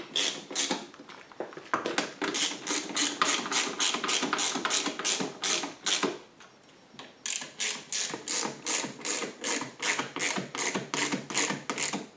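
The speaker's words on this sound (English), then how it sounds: "We're going to get all the bolts started before we go tightening them down." A hand ratchet clicks steadily while bolts are tightened on a DuroMax 11000 generator's extended run time fuel kit, with rapid bursts of pawl clicks in a regular back-and-forth rhythm, close up, a brief pause midway, and no talking.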